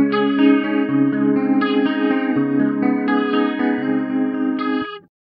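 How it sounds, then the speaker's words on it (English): Sustained organ-like chords through a rotary speaker emulation on a slow sweep, from a Hardwire TR-7 pedal, ring with a slow swirling, pulsing modulation, steady and close, before cutting off abruptly at the end. "Here's a rotary on a slow sweep."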